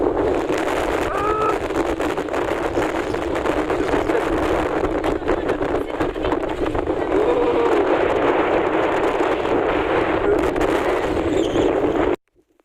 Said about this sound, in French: Il y a un vent de fou malade.